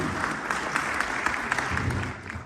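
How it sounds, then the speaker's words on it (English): Moderate audience applause at a political meet-and-greet event, a steady patter of many hands clapping that fades toward the end. "So please give him a round of applause to come here and say a few words."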